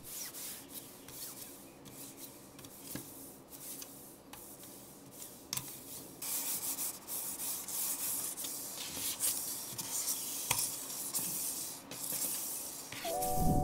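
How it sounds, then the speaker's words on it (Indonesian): A computer mouse glides back and forth over a glass mousepad, a Vortexseries Ignix Glide, giving a steady dry rubbing hiss with scattered small ticks and taps, close and moderately loud with no talking. "Kalau misalnya kita gerakin mouse di atas mousepad kaca ini suaranya jauh lebih kedengeran dibanding kalau misalnya kita gerakin mouse di atas cloth mousepad"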